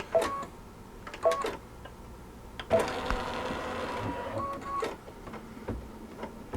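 Sewing machine stitching slippers, with short beeps and whirring stitch runs, the longest burst in the middle, close and moderately loud.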